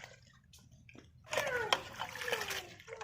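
Chopped bheto greens are rubbed and swished in water in a village kitchen, giving quiet splashes and wet sloshing that swell midway, with a few drips and trickles around them.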